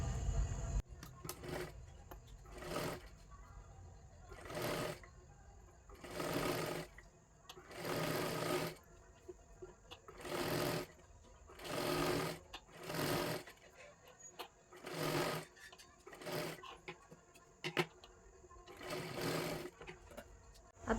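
A sewing machine stitches a strip for a katori blouse in repeated short runs of steady whirring, separated by brief pauses, with a faint background hum.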